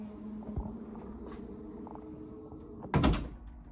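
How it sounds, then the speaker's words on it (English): Electronic tailgate on an Audi A5 Sportback 2.0 TFSI Quattro closing: a low motor hum and whir, then a solid thud as it shuts near the end, no voices. "And don't forget the electronic tailgate."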